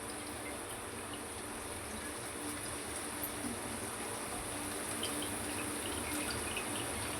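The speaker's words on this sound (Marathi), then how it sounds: "तर आपण याच्यात थोडं हलकासा पाणी काढूया आणि भाजी सोडूया त्याच्यात." Water runs steadily into a pan holding a red pumpkin leaf vegetable dish, a constant soft hiss of trickling liquid at even loudness with no talking.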